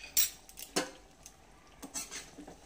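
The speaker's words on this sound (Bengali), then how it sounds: "একটু নাড়াচাড়া করে" A spoon stirs chicken and potato curry in a pan, scraping and clinking against the metal in a few sparse, soft strokes with quiet gaps between them.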